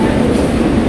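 A metro train pulls out of a station, giving a loud, steady rumbling roar with rushing noise throughout the short moment.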